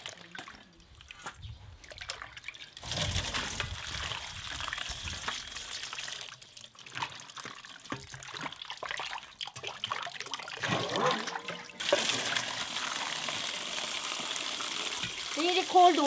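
Tap water runs and splashes while cabbage is rinsed and mixed by hand to make fresh geotjeori kimchi, a steady close wash with louder gushes and pauses, under some speech.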